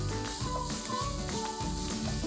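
Masala and Maggi seasoning are stirred in a hot pan, with a continuous sizzle and the soft scrape of a spoon repeating in a steady rhythm, up close, with no talking.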